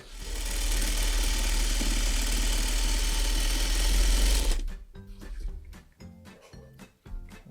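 A sewing machine stitches rows of a disappearing nine-patch quilt together, running as a steady close-up hum for about four seconds before stopping, followed by a few light clicks and handling sounds.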